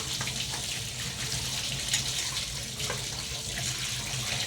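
Small fish being washed by hand under a running kitchen tap, a steady close rush of water splashing into the sink with soft handling sounds, no voices.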